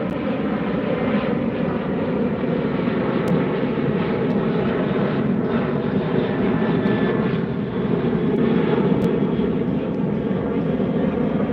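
A United Airlines jet departs LAX beside the beach, a steady, broad engine roar holding at moderate distance for the whole stretch, unbroken and fairly loud.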